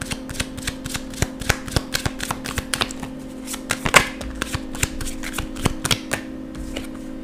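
Romance Angels oracle cards being shuffled by hand, a steady run of quick papery riffles and snaps close up, with a few louder slaps partway through and no talking.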